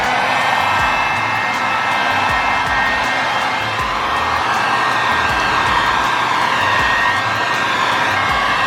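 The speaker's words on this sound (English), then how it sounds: "I just moved it over here so I could reach it with the heat gun, but I'm gonna start heating this now" Heat gun aimed at wrinkle paint on a car valve cover in an engine bay, a steady loud blowing roar running throughout with no pauses.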